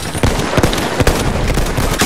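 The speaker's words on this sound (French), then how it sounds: "c'est qui a tiré comme ça là?" Sharp gunshots crack out in quick irregular bursts in a Battlefield 1 match on the map L'ombre du géant. The reports are loud and close, and no voices are heard.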